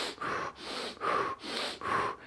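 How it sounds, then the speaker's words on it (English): Quick rapid breaths for a running breathing exercise, a steady series of strong in-and-out rushes of air, close and loud, repeating about every half second. "another exercise you can do is you can do quick breaths"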